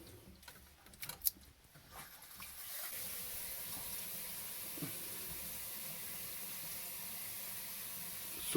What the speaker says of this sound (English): Let me turn on the water.